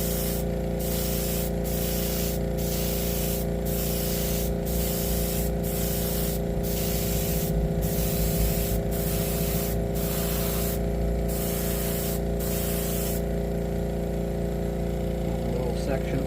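An airbrush sprays clear coat onto a 1/14 Tamiya Ford Aeromax model truck body in steady hissing bursts, each a second or so long with short pauses, over the constant hum of a compressor with a reservoir, then the spraying stops.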